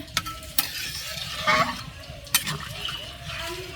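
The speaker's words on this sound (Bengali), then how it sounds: "মাংসটা কষানো হয়ে গেছে এখন জল দিয়ে নিব" Meat curry sizzles and hisses in a cooking pan as water goes in, with sharp clanks of a spoon stirring against the metal, heard close alongside faint background voices.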